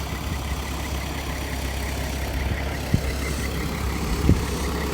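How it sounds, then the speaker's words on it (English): Tractor engine on a farm, a steady low diesel rumble running throughout at moderate distance, with a couple of brief knocks partway through and no talk. "here comes the tractor"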